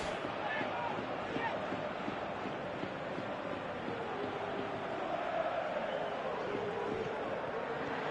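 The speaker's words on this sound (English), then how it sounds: "The crowd appreciates good football all round there." Stadium crowd in the football video game PES 2018 giving a broad, steady roar of applause, far and continuous throughout.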